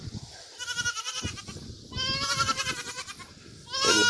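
Several goats on a homestead bleat repeatedly, loud and close, their wavering cries overlapping one another with short gaps between calls.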